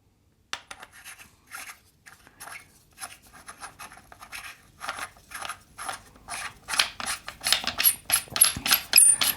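Metal silencer parts being screwed onto an Archwick B&T APC9K Pro SD2 gas blowback airsoft gun: close, dry scraping and clicking thread sounds in short repeated bursts that grow denser and louder toward the end.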